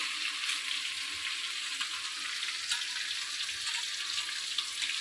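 Boal fish roe sizzles in a hot pan, a steady, close, hissing fry with faint crackles and no voices.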